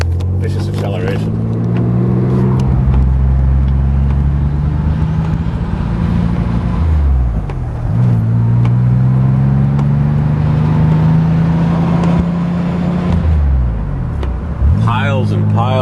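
An open Spyder car with a BMW engine accelerates hard through Schenectady streets. It gives a loud, close engine roar that climbs in pitch through the gears with brief dips at each shift, and some wind noise.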